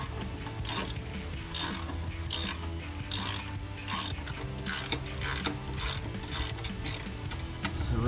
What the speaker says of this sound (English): I'll just tighten them down, not crank them all the way down yet